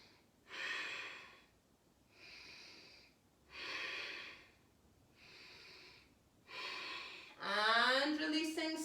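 Slow, deep yoga breaths during a moon mandala class, five long airy inhales and exhales evenly spaced and fairly close, ending in a voiced sigh or hum.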